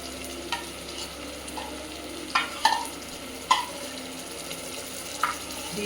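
Masala stir-fried in a pan over medium heat, a quiet continuous sizzle broken by a few sharp scraping stirs and clinks.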